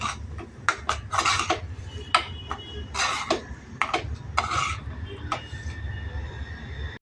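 Potato filling being mixed with salt in a bowl for batata vada, close-up spoon and bowl clatter in irregular bursts of scraping and clinking over a low steady background.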